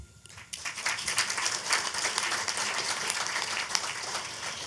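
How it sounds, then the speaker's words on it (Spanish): Steady applause from a crowd at a medical protocols training session, many hands clapping continuously at moderate distance, fairly soft and even throughout. "les pido un fuerte aplauso para todos ustedes"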